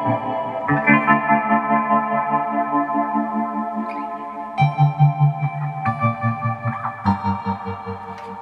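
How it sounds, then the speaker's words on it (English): Electric guitar chords played through a reverb pedal ring out with spacious reverb, notes lingering and blending into a deep, washy tail, no voices. "So when you add the reverb, it sounds like this."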